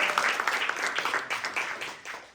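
Audience members at a venture pitch competition give a brief round of applause, close, lively clapping with uneven peaks over a couple of seconds.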